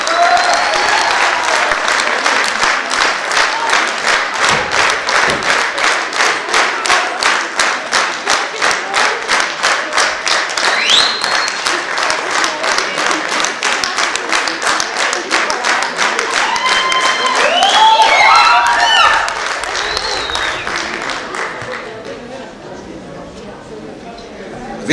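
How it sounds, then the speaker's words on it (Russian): Concert audience applauding at a February 23 holiday show, dense steady clapping for about twenty seconds, swelling slightly before fading out, with scattered cheers rising over it. "Большие аплодисменты!"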